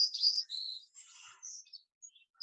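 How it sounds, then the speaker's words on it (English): A recording of a white-crowned sparrow's call is played back, a series of thin, high, clear whistled notes and short buzzy trills heard alone against silence, moderately faint. "The next one is the white-crowned sparrow. I'm gonna see if I can play the call."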